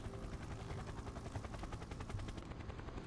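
A helicopter flies in a video game, its rotor chop a fast steady pulsing whir that runs continuously at moderate level throughout, with no voices over it.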